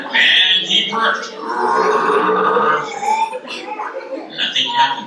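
A voices a long, loud imitation burp for a wolf in a spoken joke, a rough, rumbling belch of several seconds heard alone in a room.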